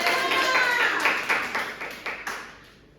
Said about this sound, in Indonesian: Tepuk tangan dulu bentar